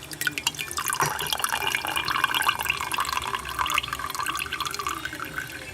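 Boiling water is scooped and swished around inside a pan, giving continuous close splashing, sloshing and dripping sounds that stay steady throughout, with no talking.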